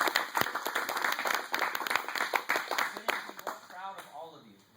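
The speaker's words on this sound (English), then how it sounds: "So a big round of applause for Brandan Catlin." A small group claps for a twelve-year-old receiving an orange belt at a jiu-jitsu gym, with crisp, uneven individual claps close by, fading out as a voice begins speaking.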